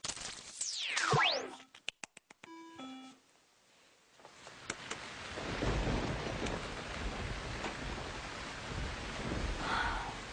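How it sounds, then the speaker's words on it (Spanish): Steady rain with low thunder rumbling, following a brief burst of cartoon-like effects at the start, with no speech over it. "Ya se soltó la lluvia otra vez."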